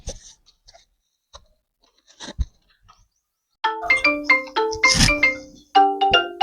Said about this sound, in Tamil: யார் போன் அடிக்கா?